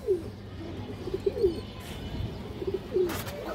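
Pigeons coo softly in short, repeated throaty phrases, fairly faint against a low background rumble, with a brief rustle near the end.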